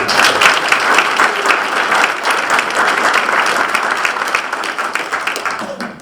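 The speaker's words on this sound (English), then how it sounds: "Give them a round of applause." Enthusiastic applause rolls through an audience at a military change of command ceremony, dense and sustained clapping at a strong, even level that tapers slightly toward the end.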